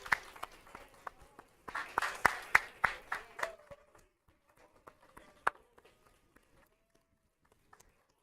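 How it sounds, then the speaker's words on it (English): An audience applauds at a senior night sporting event. The clapping swells into a dense burst and then thins to scattered claps, heard at a moderate distance. "Give yourself a round of applause."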